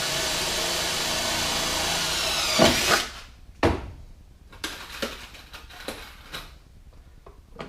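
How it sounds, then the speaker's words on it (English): A power drill whines steadily while drilling into metal on a boat's transom, then cuts off with a sharp bang, followed by scattered knocks and clatter. "I'll drill right here on this outer edge, and it should catch this metal."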